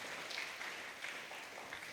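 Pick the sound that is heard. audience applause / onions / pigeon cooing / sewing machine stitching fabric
audience applause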